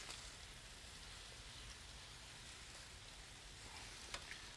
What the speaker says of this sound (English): Now, we're frying a little parsnip.